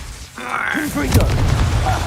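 A Confringo explosion spell bursts with a booming blast during a Hogwarts Legacy fight, landing right after the spell is called out. Rumbling, crackling impacts continue after it, and voices are present.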